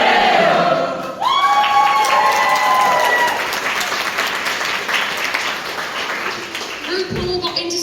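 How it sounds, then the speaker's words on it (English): A large concert crowd applauds and cheers loudly and continuously, with dense clapping under scattered shouts and whoops that carry on to the end. "The crowd went absolutely wild."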